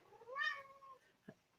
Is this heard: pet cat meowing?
yes